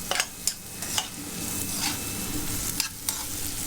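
Onions sizzle steadily in a hot pan while they caramelize, with a spoon scraping and stirring in sharp periodic strokes close by.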